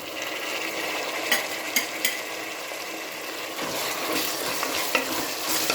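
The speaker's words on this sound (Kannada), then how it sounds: "ಈಗ ಒಂದು 2 ನಿಮಿಷ ಫ್ರೈ ಮಾಡ್ಕೊಳ್ಳೋಣ" Chopped tomato fries and sizzles steadily in a pan for veg khushka, with a spatula stirring and scraping the pan and a few sharp clicks standing out over the hiss. No one speaks.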